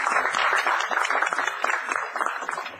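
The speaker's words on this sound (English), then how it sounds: "let's give him a round of applause" Crowd applause welcoming a new commissioner in a TV soap opera scene, dense clapping from many hands at a steady level throughout.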